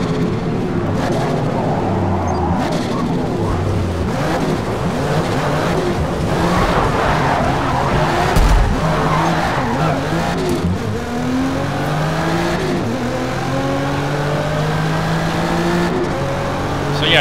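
Car engines race and rev in Forza Motorsport running on PC, with a steady loud engine drone that rises and falls through gear changes and brief tire squeals, continuous throughout.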